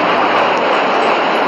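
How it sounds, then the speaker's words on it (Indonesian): A loud, steady airplane engine drone comes from a Lion Air plane toy, with no variation and no speech over it. "Wow, ini ada pesawat Lion Air."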